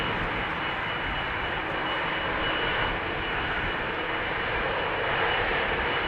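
Airliner jet engines roar steadily near the Runway 36L departure end at Amsterdam Schiphol Airport, a loud, continuous broadband rumble and hiss that swells slightly toward the end, with no talk.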